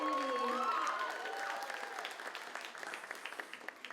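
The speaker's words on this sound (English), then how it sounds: "Big round of applause to this amazing community." At a college Asian American Pacific Islander graduation celebration, a crowd's applause for the graduates swells behind a fading voice and carries on with scattered clapping that thins toward the end.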